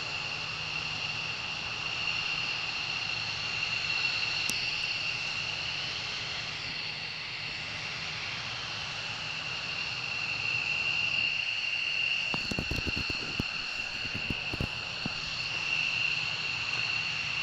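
F-15 fighter jets fly at RAF Lakenheath, a steady distant aircraft engine drone and whine with a burst of crackling thumps near the end.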